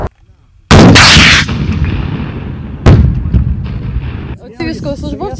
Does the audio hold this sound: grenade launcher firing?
yes